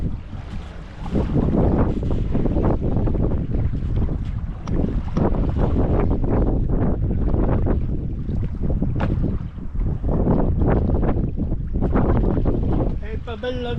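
A boat moves across open water on a short winter outing, with strong wind buffeting the microphone and a steady rush of water against the hull throughout.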